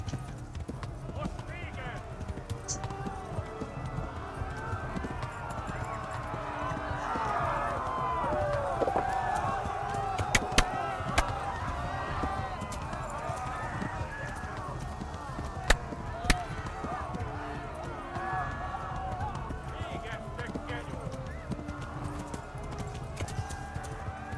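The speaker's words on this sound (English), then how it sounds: "Corre com esse cavalo." A horse gallops in Kingdom Come: Deliverance, its hooves clip-clopping in a steady fast rhythm close by, with occasional sharp knocks, while someone talks over it throughout.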